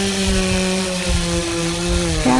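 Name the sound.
chainsaw running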